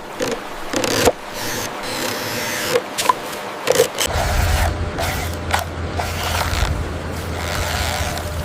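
A plastic toy excavator digging sand gives off creaking, clicking mechanism noises and gritty scrapes, with several sharp knocks, close by and fairly quiet.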